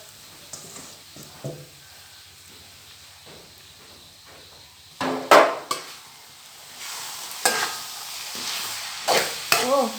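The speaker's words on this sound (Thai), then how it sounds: "เดี๋ยวไปผัดน้ำมันก่อน" Beetles and tamarind being stir-fried in oil in a pan, with a steady background sizzle broken by loud scraping bursts of a utensil against the pan, close up, with faint voices in the background.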